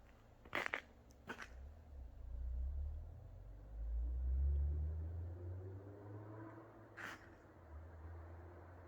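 A Toyota Corolla under rebuild drives down the road, its low engine rumble swelling and fading as it passes at a distance, with a few sharp clicks and knocks near the start and end.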